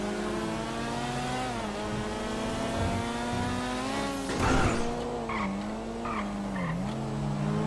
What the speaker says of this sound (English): I want you to actually listen to the sound of the car